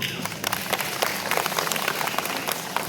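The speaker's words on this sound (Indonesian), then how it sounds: "Tepuk tangan dulu." A crowd applauding at an Isra Mi'raj religious gathering, dense scattered clapping of many hands sustained at a steady level throughout, moderately loud.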